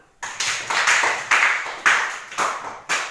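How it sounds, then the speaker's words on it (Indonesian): A class of schoolchildren claps hands in unison, about eight loud, evenly spaced claps ringing out in a room with no talking. "tepuk tangan dulu"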